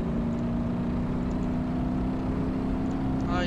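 A car in the driving game BeamNG Drive holds a steady, droning engine note at constant loud volume, with a faint rising whine near the end and no clear surge of acceleration.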